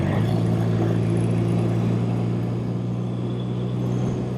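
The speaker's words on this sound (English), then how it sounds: "I'm going to give it a rev and it's going to torque itself" A BMW R75/5 flat-twin motorcycle engine runs close by with a steady, smooth low hum and a constant drone that stays even throughout, with no distinct rev peaks.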